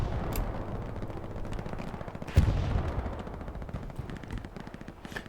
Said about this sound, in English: Oh, and a strafe. Strafe takes down a BALLISTIX spotter.